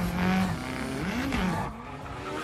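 A Corvette in the racing game Need for Speed Payback drives with a loud, sustained engine note and shifting pitch, plus bursts of tire squeal as it slides through corners, with no talk.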